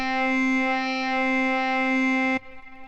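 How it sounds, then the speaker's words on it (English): A steady, buzzy synthesizer note with a reverb effect holds, then cuts off abruptly and leaves a faint reverberant tail ringing on. "I don't understand where this reverb is coming from."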